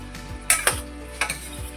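Gobi vatana curry of cauliflower and peas being stirred in a pan, a few sharp spoon scrapes and clinks against metal over a faint sizzle, close and fairly loud, with no talking.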